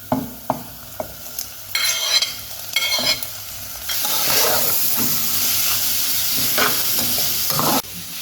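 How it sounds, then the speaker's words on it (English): Mincemeat sizzles and spits in a hot pan while being stirred, with scraping and clinks at first, then a loud, steady frying hiss that continues to the end. "Now let's add our mincemeat."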